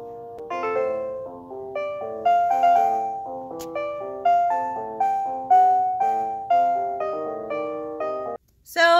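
A lo-fi piano song plays back from music software, a simple melody of repeated chords and notes with a bass-clef line below, clear and close, steady in rhythm, with no voices.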